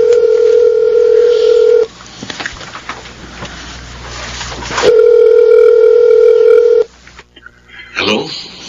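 A telephone dial tone hums steadily, breaks off into a stretch of dialing and handset noise, then resumes, with a voice cutting in near the end; the sound is loud and close.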